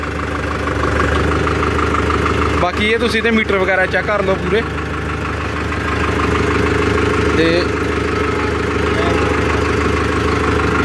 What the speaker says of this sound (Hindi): यह तो हो गई किसान वीरों ट्रैक्टर की आवाज़